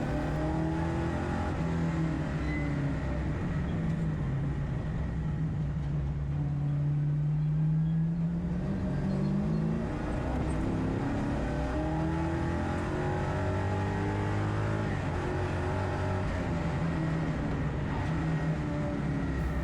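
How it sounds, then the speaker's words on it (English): Big V8 race car at Hampton Downs in a Superlap round, pulling hard in third gear at low revs out of a corner on a damp track, a steady, loud engine drone with rising harmonics, no talking. "the big V8 pulling just 1900 RPM in 3rd gear and still very nearly breaking loose at corner exit"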